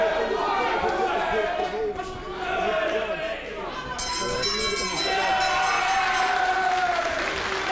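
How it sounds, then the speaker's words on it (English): Crowd cheering and applauding at a gymnasium event, a steady roar of voices and clapping that swells loud, with talk and shouts mixed through it. "They're cheering like he's won in the first round"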